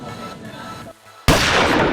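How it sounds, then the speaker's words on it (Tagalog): A starting gun fires for a women's 500-metre race run in high heels: a single sharp, loud report cuts through quieter outdoor ambience, followed by a sustained burst of noise. "Pagputok ng baril, kumaripas na ang mga kalahok na babae."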